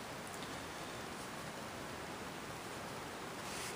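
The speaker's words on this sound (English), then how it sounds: "I'm sorry about the noise, but there's a rainstorm outside." A rainstorm outside makes a steady, even hiss of falling rain, constant and moderately faint throughout.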